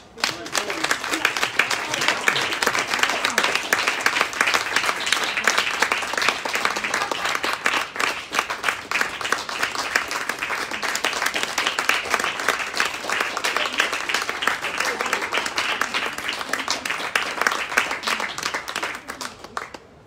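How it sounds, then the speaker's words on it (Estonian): Audience at a book launch for a poetry and art collection applauds steadily, a dense, even wash of many clapping hands lasting the whole stretch, with some faint voices beneath. "Aitäh, aplaus!"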